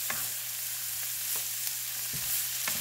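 Carrots and onion fry in avocado oil in a pan, a steady close sizzle with a few light stirring clicks scattered throughout.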